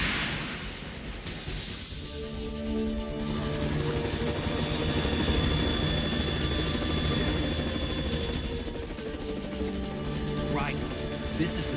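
A Harrier jet roars in Metal Gear Solid 2, a loud sustained engine drone with whining tonal layers that swells after an opening clatter and holds steady, with game voices and music mixed in.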